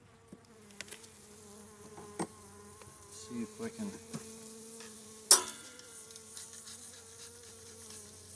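Carniolan honey bees hum steadily inside a winter hive during a February check, a sustained buzz running the whole time with a few knocks and a sharp clatter midway, and a person speaking briefly.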